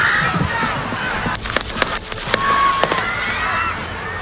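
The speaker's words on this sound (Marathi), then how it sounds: "सुमारे 400 फूट अंतरावरील इमारतीच्या छतावरून AR-15 रायफलमधून 8 राऊंड फायर करण्यात आल्या" AR-15 rifle gunshots at an outdoor Trump rally, fired from a rooftop about 400 feet away: a string of sharp, distant pops over a crowd murmur, with several cracks bunched in the middle of the clip.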